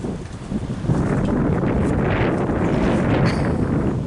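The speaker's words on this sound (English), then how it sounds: "It's very windy, and it's usually really windy here actually, quite noisy because of all the trees" Strong wind roaring through trees at a windy rural home, a loud continuous rushing with gusty rustling and heavy buffeting on the microphone, no talking.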